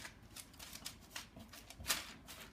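A quick, dry rustling and crackling as pecan crumble spills onto parchment paper, with one sharper crinkle near the end; quiet and close.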